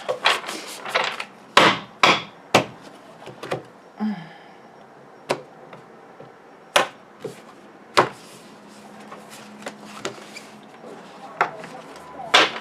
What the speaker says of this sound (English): I love beating these cards up, banging them on the table.